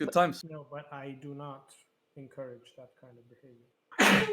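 A single sharp, loud sneeze bursts out near the end, right after a stretch of close conversational talk and a brief pause.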